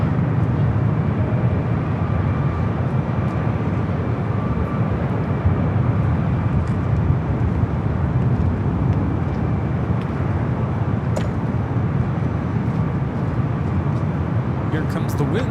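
Airliner on the Osaka flight at LAX airport, its engine roar steady and broad throughout, with traffic noise around and voices talking over it.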